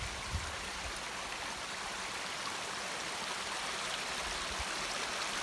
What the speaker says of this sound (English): Little triple waterfall.